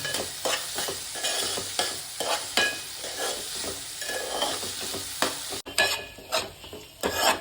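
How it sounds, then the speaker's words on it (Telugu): Onions fry and sizzle in a pan for chicken fry while a utensil stirs them in repeated scraping strokes, close and steady, with no talking. "ఆనియన్స్ అయితే మనం ఇట్లా మంచిగా కలుపుకోవాలి"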